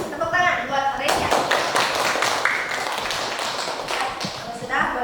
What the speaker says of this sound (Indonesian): Tepuk tangan buat Resia.